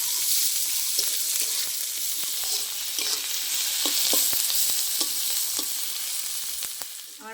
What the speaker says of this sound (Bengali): কেটে রাখা পেঁয়াজ দিয়ে দেবো।